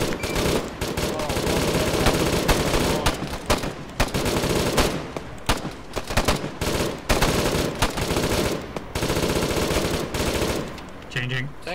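Sustained bursts of machine gun fire in a military video game, loud and nearly continuous with short gaps, near and dense, with a brief change in texture at the very end.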